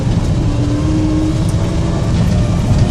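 A 1962 Chevrolet C10 long-bed stepside pickup drives on the road, its engine a loud, steady low rumble from inside the cab with a faint rising tone, no talk over it.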